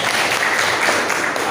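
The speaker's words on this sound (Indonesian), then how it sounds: "Bagus, tepuk tangan." Steady group clapping from a classroom full of people, dense and continuous with no distinct individual claps, holding at an even level throughout.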